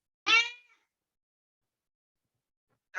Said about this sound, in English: My cat has some meowing to contribute